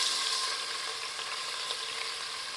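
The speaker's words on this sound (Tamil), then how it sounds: "இப்போ நம்ம வெங்காயம் ஆட் பண்ணிக்கலாம்." Onions fry in hot oil for Ambur chicken biryani, a dense, even sizzle close up and without pause for a couple of seconds.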